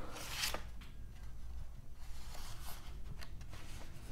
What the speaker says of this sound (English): Excuse me for that rustling sound. It's my puppy.